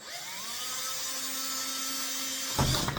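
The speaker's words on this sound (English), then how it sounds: "I'm just trying to cut with the drill." A handheld power drill whines steadily as it bores a hole into a wooden shadow box, a close, continuous motor tone with a rougher burst near the end as the bit breaks through the wood.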